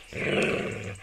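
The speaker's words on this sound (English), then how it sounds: "Dog." A dog gives a single low, rumbling growl lasting about a second, close and steady, with no other sounds around it.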